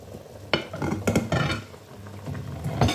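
Tomato and tomato paste added to a pot for an oxtail and vegetable broth, a few clattering spoon knocks and stirring scrapes against the pan over a low background hiss.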